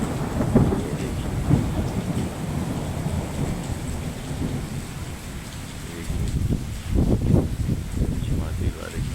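Heavy rain pours steadily outdoors while thunder rumbles low and rolling through it, swelling louder toward the end.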